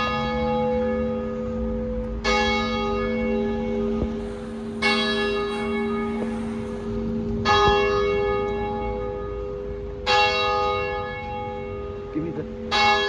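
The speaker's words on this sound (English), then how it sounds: "I hear another one from the courthouse." Courthouse bell in New York tolling steadily, about five strong rich strikes spaced two to three seconds apart with sustained ringing overtones between them, fairly close and loud; a faint voice murmurs briefly near the end.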